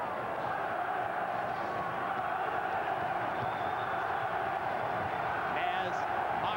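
A boxing arena crowd roars on at a Naseem Hamed versus Wayne McCullough fight, a steady, dense wash of cheering and encouragement that holds throughout at moderate loudness.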